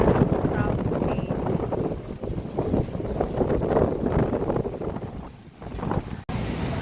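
Strong wind buffeting a microphone outdoors near South Bay, a loud, continuous roaring rumble that surges and dips, with a brief cut near the end.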